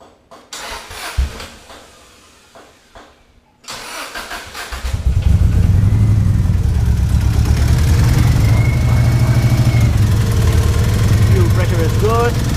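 A 2002 Subaru WRX (GC8) with a converted ignition coil setup cranks over after a few quiet clicks and handling noises, catches and settles into a loud, steady idle close by.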